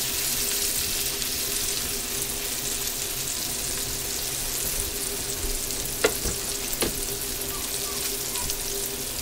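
Food frying until crispy in a pan, a steady close hiss of hot oil with a steady hum under it and two sharp brief clicks or taps partway through.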